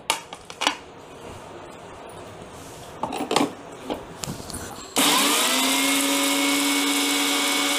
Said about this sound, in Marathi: हे मिरची आणि जिरं हे मिक्सरच्या भांड्यात टाकून घेतलं आहे आणि हे सर्व चटणी आम्ही मिक्सरमध्येच करणार आहे